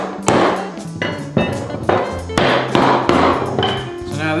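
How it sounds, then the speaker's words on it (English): Eight or so sharp, ringing hammer blows strike a metal holdfast set through a hole in a wooden workbench, evenly spaced and loud at close range, each with a short metallic decay. "You put it through a hole in your table, and you just give it a couple whacks."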